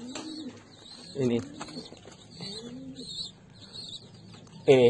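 Homing pigeons coo softly in low, throaty bursts, with chirps and rustling around them. A voice speaks quietly now and then.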